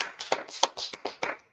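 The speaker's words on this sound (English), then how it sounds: "Clap it up for the class." A brief smattering of hand claps from a small group, quick and uneven, fading out within a second or two.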